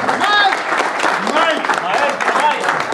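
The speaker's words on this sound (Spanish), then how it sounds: "pongámonos de pie para despedir con un fuerte aplauso a este maravilloso grupo" Audience standing to applaud a musical group at the close of a general assembly event: dense, continuous clapping from a full room, with an announcer's voice faintly over it.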